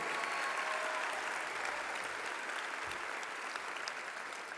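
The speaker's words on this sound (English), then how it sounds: "join me in a strong Sun Devil applause for the organizer of the Stoll ceremony, Ms. Zoe Esslinger." Applause from an audience at a university athletics stole ceremony, a dense, steady wash of clapping sustained throughout at a fairly even level.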